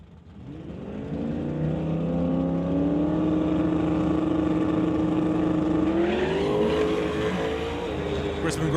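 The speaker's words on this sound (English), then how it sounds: "Chris McGraw spins the tires." Drag race car at a West Coast Outlaw Shootout spinning its tires on a pass: a loud, sustained engine roar with shifting pitch that rises near the end, running continuously and up close.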